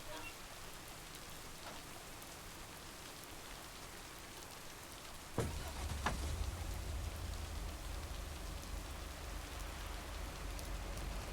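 Steady rain falls in the PS5 video game Lake, a continuous hiss of drops on surfaces at even, moderate level, with a sharp crack near the middle, after which the rain grows slightly heavier and fuller.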